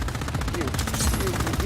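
Rapid gunfire from a sniper rifle in the Just Cause 4 video game on Xbox One, a dense run of repeated shots layered over steady game sound effects throughout.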